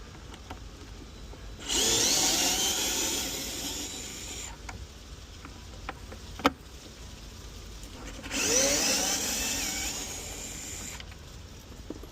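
Power drill backing out the screws that hold the subwoofer in an Audi Q8, two sustained whirring bursts of a couple of seconds each separated by quiet handling noise and a sharp click, close and fairly loud.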